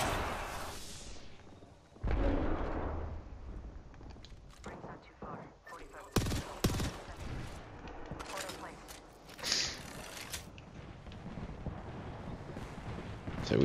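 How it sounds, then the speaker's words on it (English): Grenade blasts in Apex Legends, a deep rumbling explosion followed by scattered gunfire bursts and sharp impacts in a busy mix, with a player talking over the game sounds. "These nades are crazy."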